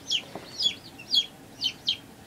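Week-old baby chicks peep up close in a quick run of high, shrill calls, about five bursts over a couple of seconds with no talk.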